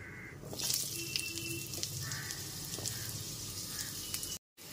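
Cut potato pieces fry in a pan on a medium gas flame, stirred after a spice tempering. A soft, even sizzling hiss runs throughout with a few light scrapes, then cuts off briefly just before the end.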